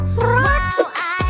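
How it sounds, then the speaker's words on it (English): A cat gives a loud, close meow with a sliding pitch, then a second drawn-out meow after a brief pause. "Cat."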